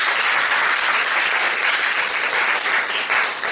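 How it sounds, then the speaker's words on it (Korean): Sustained applause from a youth worship congregation honoring their teachers, dense steady clapping filling the room without pause and no voices over it. "수고해주신 분들께 한 번 더 큰 박수 하겠습니다"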